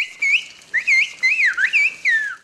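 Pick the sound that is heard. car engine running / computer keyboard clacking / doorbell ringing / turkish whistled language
turkish whistled language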